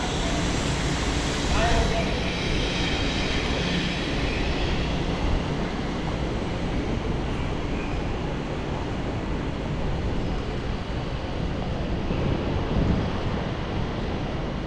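An LRT train runs from KL Sentral toward Pasar Seni in Kuala Lumpur, with a loud, steady rumble and rushing roar that continue unbroken throughout, much like wind buffeting a nearby microphone.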